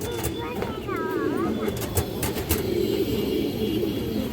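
Pigeons of a fancy breed coo softly in a loft, a few low warbling calls rising and falling over faint background noise while someone speaks.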